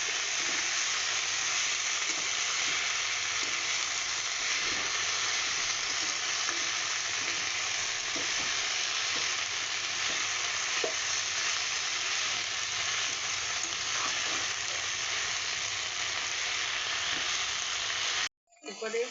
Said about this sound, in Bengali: এরপর বাটা লঙ্কা, পেঁয়াজ আর পোস্ত একসঙ্গে যে বাটা পেস্টটা, সেটা আমি দিয়ে দিচ্ছি। দিয়ে এটাকে ভালো করে কষে নেব।